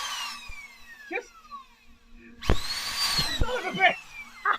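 A handheld power drill runs in short bursts while working on a van, its whine rising sharply midway and sliding slowly downward, with people talking close by.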